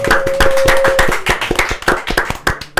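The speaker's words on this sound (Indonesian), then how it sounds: "Boleh tepuk tangan." A small group claps by hand during the opening of a podcast sharing session, with sharp, uneven individual claps that start dense and thin out toward the end, loud and close.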